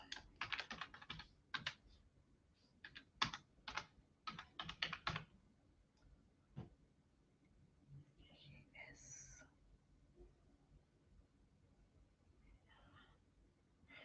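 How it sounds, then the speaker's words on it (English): Quick bursts of keystrokes on a computer keyboard clatter close by at the start, then thin out into scattered taps, with soft speech and whispery sounds in the quiet later stretch. "Let me type exactly what it is."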